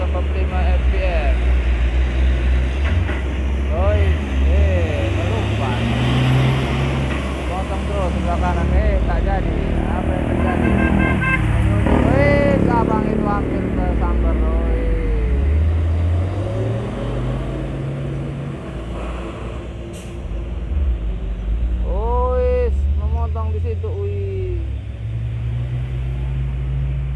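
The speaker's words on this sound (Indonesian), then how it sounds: "Lihat di sini ada Hino Euro 4 muatan tank ya, menanjak ya" A loaded Hino Euro 4 tanker truck climbs a hill, its engine a steady heavy rumble with rising gear-laden drone among other passing traffic, while people talk throughout close by.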